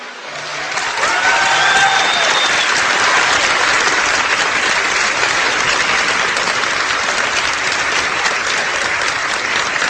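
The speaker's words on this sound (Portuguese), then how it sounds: "Eu sei que é fácil para vocês baterem palmas" Sustained applause from a live audience at a talk, dense steady clapping filling the whole stretch, with faint cheering near the start.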